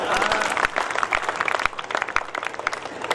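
An audience at an evening poetry gathering for Independence Day applauds with dense, scattered clapping that is loud at first and thins out over about three seconds.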